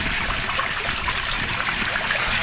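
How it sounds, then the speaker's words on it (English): Water pours continuously into an aquaponics fish tank, a dense, steady rushing trickle heard close up without pauses and with no talking. "the only thing that remains is to get enough water in here to fill this tank up completely"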